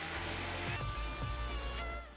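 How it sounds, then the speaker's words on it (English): A steady electric motor whirs loudly and continuously, its pitch shifting slightly as it runs, like a blender working through a thick sauce of tomato paste, chicken broth and milk. "I make the sauce smooth with a blender."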